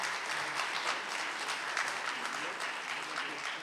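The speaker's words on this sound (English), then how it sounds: "A round of applause" Audience applause at a university ceremony marking a historic signing, a steady wash of many hands clapping at moderate loudness for a few seconds, with faint voices mixed in.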